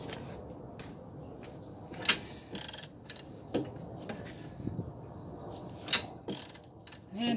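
A wrench works a rusty rear suspension bolt near the control arm of a 2004 Nissan Armada, giving intermittent metallic clicks, creaks and sharp knocks over quiet shop background.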